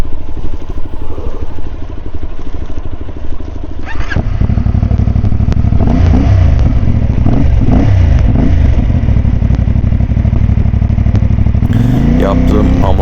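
A CFMoto 450 MT motorcycle rides through forest at night near Tekirova, Antalya, its engine droning loud and steady throughout, with a harder pull and rising revs midway and clattering bumps from off-road terrain.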